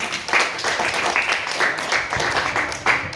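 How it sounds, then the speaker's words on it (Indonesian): A small classroom group claps during a micro-teaching lesson, a close burst of irregular hand claps with distinct sharp hits rising and falling over a few seconds. "Bagus, pertanyaan yang spektakuler, tepuk tangan."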